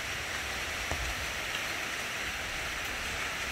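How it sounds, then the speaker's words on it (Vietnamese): Heavy rain pours steadily on an outdoor surface, a dense, continuous roar of close raindrops with no pauses, next to a Mitsubishi TL 261 26cc brush cutter. "Thì mưa to rồi các bạn ơi, mưa to rồi"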